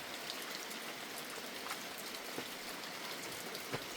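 Rain falls steadily outdoors in an autumn pine-mushroom forest at about 17 degrees, a soft even hiss with scattered nearby drips tapping on surfaces, no voices.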